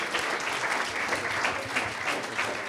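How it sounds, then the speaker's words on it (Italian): An audience applauds after a talk at a cinema workshop, giving a short burst of dense, even clapping at moderate distance with no speech over it. "È giustissimo, merita un applauso"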